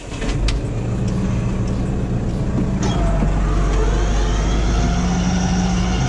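A tractor-driven mowing machine runs with a loud, steady engine drone that shifts to a fuller, heavier hum partway through, with no talk over it.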